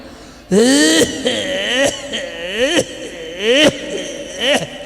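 A voice imitates the harsh, wheezy cough of an old bidi smoker: a long rasping fit of repeated hacking bursts with strained, whining breaths between them, loud and close.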